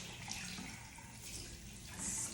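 Tap water runs steadily into a sink while a makeup sponge is rinsed under it, a continuous close splashing hiss that swells slightly toward the end, with no talking.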